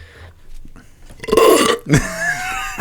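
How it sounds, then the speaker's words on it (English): A man lets out a loud, drawn-out burp close to the mic, rising after a few quieter sounds and followed by a second, rougher belch. "That was a terrible burp, but I'm counting that."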